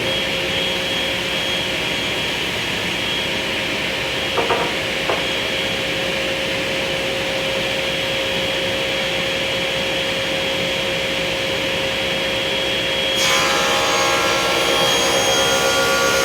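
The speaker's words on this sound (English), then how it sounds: "I actually raised the blade just a little bit because I'm going to cut the 2 bottom shelves, the 1-inch thick bottom shelves first." A table saw cuts 1-inch thick maple bottom shelves with a steady, loud motor drone. Near the end the pitch and texture shift as the blade works the board.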